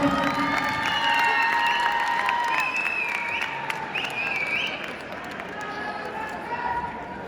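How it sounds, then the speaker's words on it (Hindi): An audience at a talent showcase applauds, dense clapping mixed with cheers and children's shouts, while a whistle-like tone and voices cut through; the crowd noise is steady and gradually eases. "सो एक दफा भरपूर तालियां इनके लिए बजाइएगा।"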